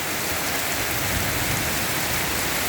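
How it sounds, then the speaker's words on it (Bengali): Heavy rain with strong wind pours down loudly and steadily, a thick wash of drops hammering a surface with no pauses and no voices. "খুবই প্রচণ্ড বৃষ্টি, বাতাস আর বৃষ্টি অনেক পাওয়ারফুল, অনেক পাওয়ার বৃষ্টি"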